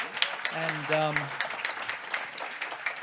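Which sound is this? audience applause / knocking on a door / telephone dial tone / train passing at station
audience applause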